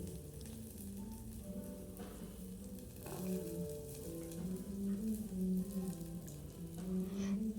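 Onion, cumin and mustard seeds frying in oil make a faint, low crackling sizzle with a few soft stirring scrapes, quiet and close with no voices.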